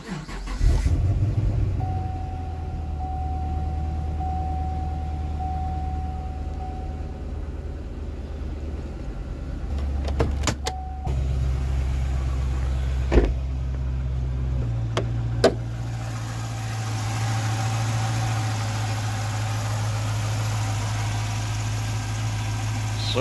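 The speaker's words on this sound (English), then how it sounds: "Cold start." A 2010 Chevrolet Camaro SS with the LS3 V8 cold starts with a loud burst, then settles into a high, steady idle that later steps down to a lower, even rumble, with a few clicks in between.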